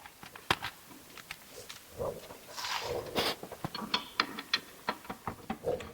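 A socket ratchet clicks in short bursts while tightening bolts on a RoadMaster suspension install, rapid pawl ratcheting close up, with light tool handling between strokes.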